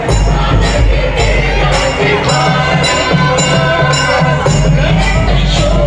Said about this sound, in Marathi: मानाचा गणपती असलेला पहिला नवयुग गणेश मंडळ या कार्यकर्त्यांचा हा जल्लोष आपण इथं बघत आहोत